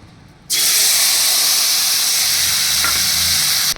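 Three whole green chillies drop into hot oil in a kadai, setting off a sudden loud, steady sizzle and hiss that holds close and continuous until it cuts off near the end.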